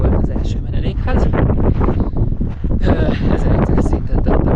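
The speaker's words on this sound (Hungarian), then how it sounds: "És most így eléggé feltámadt a szél." Strong, gusty wind on the Gotemba trail of Mount Fuji, buffeting the microphone with loud, continuous rumbling and roaring bursts.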